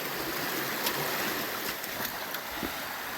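Creek water flowing steadily, a constant broadband rush of moving water close by with small splashes and trickles, no voices.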